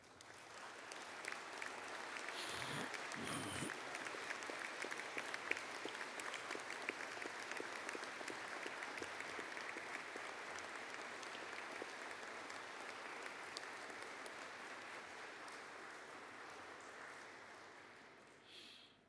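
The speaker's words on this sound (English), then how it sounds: "the graduates themselves might stand up and give a well-deserved round of applause to your family and friends represented" At a Faculty of Engineering and Informatics graduation ceremony, graduates applaud their families and friends with steady, dense clapping that holds evenly for nearly twenty seconds before fading, a hall full of hands and no talking.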